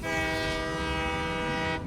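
A train horn honks in the video game Satisfactory, one loud sustained blast that holds steady for nearly two seconds over a low rumble and then cuts off.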